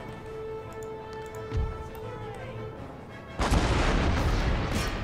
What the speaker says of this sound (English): Okay, so shrapnel shot. Let's just start hitting them with my special shells.